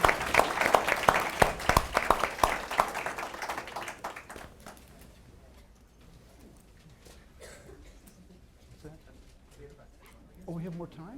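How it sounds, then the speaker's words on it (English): Audience at a Washington forum on Korea claps for the panelists: a dense burst of applause for about four seconds that quickly thins out, leaving a quiet room with scattered murmurs and voices. "Let's give the panelists a big round of applause and thank them for coming"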